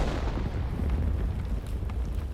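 A T9-2 tank fires its cannon while moving in a video game, a heavy booming blast with a deep rumbling tail that fills the short stretch.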